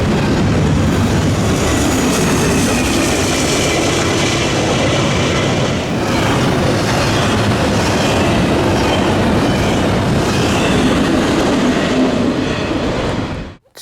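Freight train led by BNSF locomotives on the Norfolk Southern Chicago Line rolls past at night, a loud, close, continuous roar of wheels and clattering cars that stays steady throughout and cuts off abruptly at the end.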